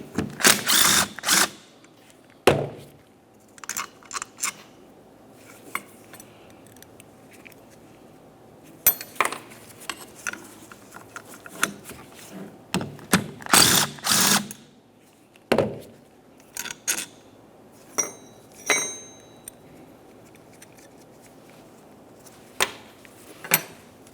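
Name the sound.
wrench removing 10mm mounting bolts, Honda Civic wiper transmission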